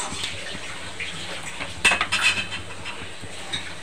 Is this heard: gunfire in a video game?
no